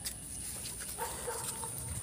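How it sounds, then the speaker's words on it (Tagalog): A dog makes soft whimpering, yipping sounds in the morning on the way to the sea, faint against steady background hiss. "Diba? Ang galing ng aso."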